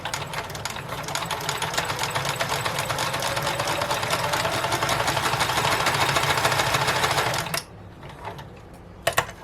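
A sewing machine runs steadily while stitching elastic onto a too-big factory-made skirt, a loud continuous whirring drone that stops abruptly, followed by a few faint clicks and a brief rattle.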